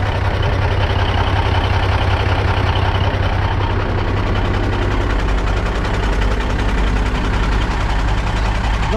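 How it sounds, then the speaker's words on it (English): A truck with a Cummins engine and a non-standard, oversized turbo idles with a steady, loud, low rumble that holds unchanged throughout, with no talking. "This has got a Cummins engine in it, but it's got a turbo the size of a dustbin on it."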